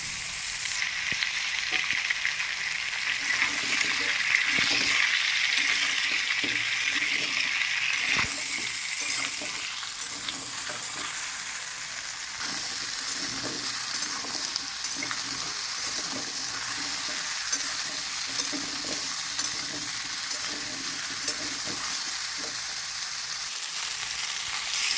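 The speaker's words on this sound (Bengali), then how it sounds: "এবার কেটে রাখা কাঁচা কুমড়োটা দিয়ে দেব।" Raw pumpkin pieces sizzling in hot oil in a pan with already fried potatoes, a steady crackling hiss with occasional stirring scrapes and clinks, louder for the first several seconds and then settling to a softer, even fry.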